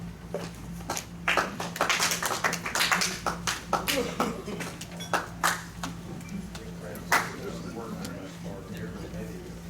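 Scattered applause from an audience at a Rotary Club meeting, sparse claps in uneven bursts over a steady room hum, fading out with occasional single claps.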